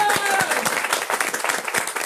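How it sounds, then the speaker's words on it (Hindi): Dense, continuous applause from an audience at a Hindu religious gathering near Greater Noida, with many hands clapping loudly and evenly throughout the short stretch. "हम लोग माधव प्रिय प्रभु के लिए जोरदार ताली बजा।"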